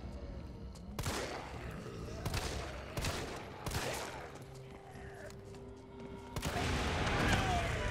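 Gunfire in Resident Evil 3 hits a barrel, which explodes. Several sharp, loud shots come in irregular bursts, ending in a heavier sustained blast and rumble.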